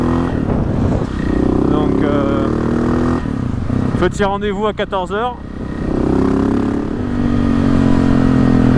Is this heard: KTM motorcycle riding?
yes